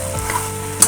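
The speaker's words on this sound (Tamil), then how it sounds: "நல்லா கிளறிட்டு" Green chillies frying in a pan for South Indian-style masala pasta are stirred, giving a loud continuous sizzle with a quick scraping stir and a brighter crackle at the end.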